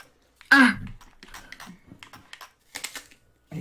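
Computer keyboard keys pressed in quick, uneven bursts while playing a game, starting with one loud, close clack and then lighter rapid taps, with a brief throat-clearing sound among them.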